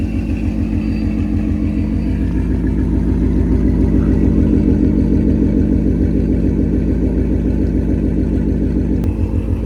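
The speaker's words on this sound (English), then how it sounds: "That idle sound literally never, ever gets old. Oh, I love it. I love a V8." A Ford Mustang V8 idles loud and close with a deep, steady, throbbing burble that holds evenly throughout, with slight swells of revving and no voices.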